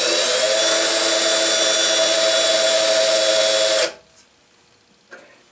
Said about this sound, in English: Again, I drill all the way through both pieces.